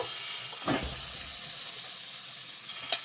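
Fried potato pieces dropped into a pan of hot, oily masala for a rohu fish curry, with a steady close sizzle throughout and a brief thump of food landing early on.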